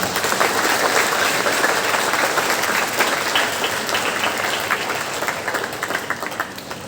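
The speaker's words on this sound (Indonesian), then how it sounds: "Tepuk tangan dulu untuk mereka semuanya" Applause from an assembled crowd at a school Independence Day flag-raising ceremony, honoring elementary school children who performed; dense, steady clapping fills the whole stretch, loud and continuous, tapering slightly near the end.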